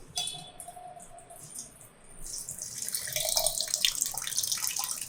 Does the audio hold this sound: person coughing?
no